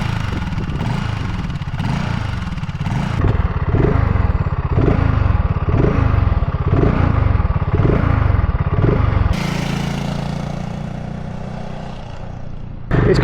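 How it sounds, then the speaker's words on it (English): A 2024 BSA Goldstar 650 single-cylinder motorcycle exhaust, loud and close, with a deep throbbing idle, a series of rhythmic revs rising and falling, then a steadier drone before cutting off abruptly. "the one thing it has got is a real nice tone to the exhaust"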